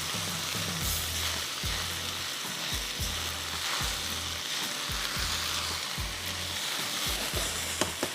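Rice is stir-fried fast in a hot pan in Indo-Chinese Hakka style, a steady loud sizzle broken by regular scraping strokes of the stirring spatula, with no voices.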